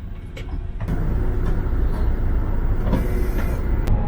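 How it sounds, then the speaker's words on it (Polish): Riding inside a bus around Munich, a steady low engine and road rumble fills the cabin, with faint rattles and clicks over the continuous drone. "No i siedzę już w autobusie"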